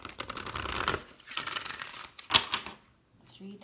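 Tarot cards are shuffled by hand in a few short bursts of riffling and crinkling papery flutter, close and fairly quiet, with brief pauses between.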